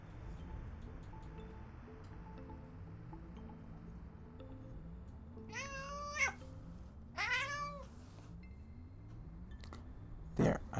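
A pet cat gives a few short meows around the middle and end, close by and moderately loud over a steady low background hum.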